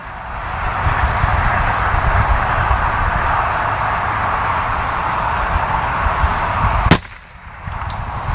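A single sharp .22LR rifle shot, fired with an Athlon Heras 2-12x42 scope mounted, cracks out once near the end over a steady outdoor hum of insects and wind, followed by a brief dip in the background.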